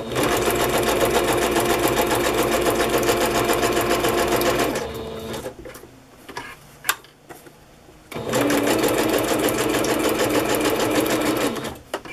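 Sewing machine zigzag-stitching thick lace onto a mermaid bag, running in two long steady bursts of rapid mechanical whirring with a quieter pause of small clicks and handling noises between them.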